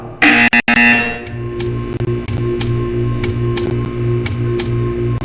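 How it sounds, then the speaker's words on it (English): Buzzer in a Portal 2 video game test chamber, a loud harsh electronic burst followed by a pulsing, repeating tone with regular ticking beats. "You will hear a buzzer."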